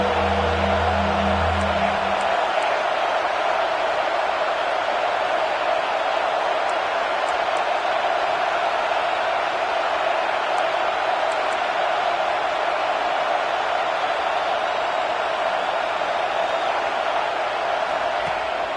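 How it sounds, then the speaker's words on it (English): An Ohio State Buckeyes football crowd in a stadium roars steadily on a third-down play during a game against Michigan, a dense, continuous wash of cheering that holds at an even loudness throughout. "The Buckeye crowd alive on 3rd down."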